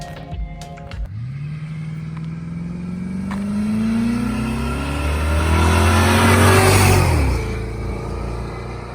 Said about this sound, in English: We're gonna do a little flyby down here and just gonna gun it around here.